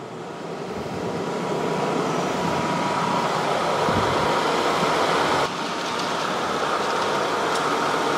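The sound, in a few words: Karstar air cooler fan blowing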